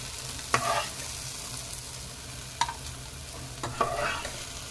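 Okra (vendaikkai) frying crisp in a pan, with a soft steady sizzle beneath a few sharp stirring clatters spaced irregularly across the stretch.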